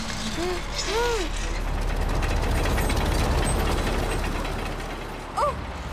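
Cartoon levers being turned on a creaking, ratcheting mechanism, with clicking, gear-like creaks over a steady background, joined by brief animated voices near the start and end.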